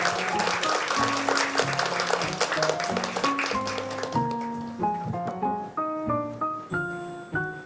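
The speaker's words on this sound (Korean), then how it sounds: "우리 나오실 때 박수로 환영하도록 하겠습니다." A Sunday church congregation claps to welcome a missionary to the front, the applause blending with piano music and fading after a few seconds while the piano notes carry on alone.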